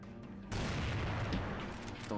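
Gunfire in the CrossFire shooter game bursts in abruptly after a quiet half-second, a dense rattle of shots that holds loud for the rest of the moment.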